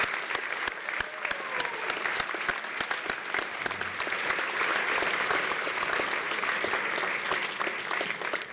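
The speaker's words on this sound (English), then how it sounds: "Please give all of these citizen lawyers the applause they well deserve." A graduation awards crowd applauds the law school graduates with sustained, dense clapping from many hands that continues evenly at a moderate level the whole time.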